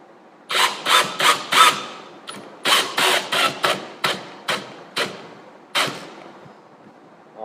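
A drill driving a big, tough screw into material, heard as a run of about fifteen loud, evenly spaced impact bursts with brief gaps between them, close and with no talk.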